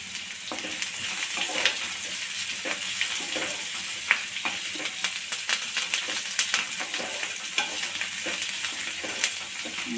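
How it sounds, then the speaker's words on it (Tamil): Coriander and curry leaves sautéing in a pan for gooseberry chutney, a continuous sizzle with light scraping stirs and small pops, close by with no talk. "நல்லா கிண்டி விட்டுக்கணும் கொஞ்சம் லைட்டாக வதங்கட்டும்"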